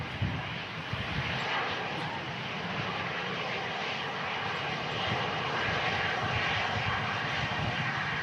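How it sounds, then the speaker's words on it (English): Air Transat airliner arriving from Toronto to land at Manchester in strong crosswinds, a steady continuous engine roar at moderate distance with wind noise, holding level throughout. "With the Air Trans, that is number 2 to land in from Toronto."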